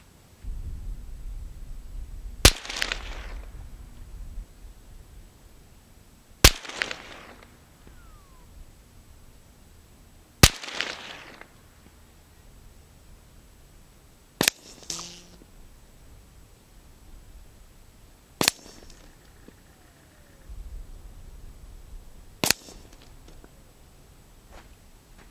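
Six sharp .300 Whisper rifle shots with Nosler 125 grain ballistic tips over Reloader 7 powder, fired outdoors at a 100-yard range, spaced about four seconds apart, each a loud crack with a brief decaying tail.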